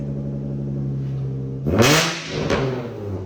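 An idling Infiniti G35 engine with a 3-inch exhaust pipe hums steadily, then revs sharply with a loud, throaty exhaust roar before settling back to idle.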